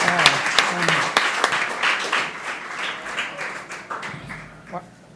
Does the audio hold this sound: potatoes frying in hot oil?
no